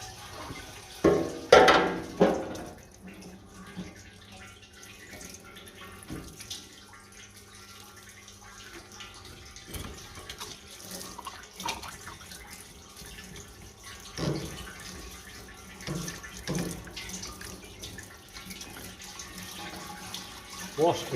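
A parts washer flushes solvent over 1968 Triumph T100C fork legs, a steady trickling, splashing wash with occasional louder sloshes and clanks, fairly close.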